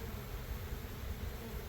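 Honeybees buzzing around an open hive being split into a nuc box: a continuous, droning hum from many bees close by, steady and unbroken with no talk over it.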